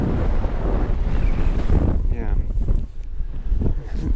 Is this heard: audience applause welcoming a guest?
no